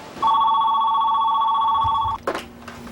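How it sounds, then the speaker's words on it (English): Telephone ringing in a quiet rural home, a single steady electronic ring lasting about two seconds, loud and close, followed by a brief clatter as it is picked up. "Very exciting when the phone rings."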